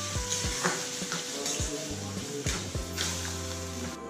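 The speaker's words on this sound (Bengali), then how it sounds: "দিয়ে দেওয়ার পর তেল আর রসুনের সঙ্গে ভালো করে আমড়াটা মিশিয়ে দিতে হবে।" Boiled hog plums for a pickle are stirred into hot oil with fried garlic, a spoon scraping and knocking against the pan in repeated strokes over a soft, steady sizzle, close up.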